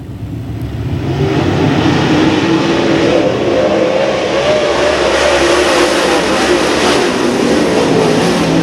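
Several race cars roar into a turn together, a loud continuous engine drone with revving that stays steady and close throughout, no voices rising above it.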